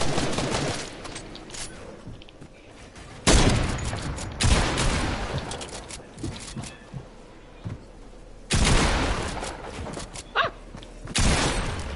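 Gunfire in the video game Fortnite: repeated loud bursts of shots and booming blasts with rapid fire between them, dense and close, with no talk over it.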